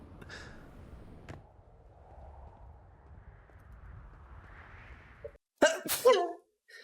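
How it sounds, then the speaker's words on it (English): A single sharp human sneeze close to a microphone, loud and abrupt after quiet low room hum, with a short burst and trailing breath. "Sorry, I sneezed."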